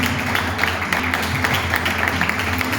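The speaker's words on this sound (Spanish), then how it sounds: "Y acompañamos con el aplauso hasta que llegue hasta aquí" Audience applause at a school oratory contest final, a steady dense wash of many hands clapping throughout, fairly loud and continuous with a faint voice mixed in.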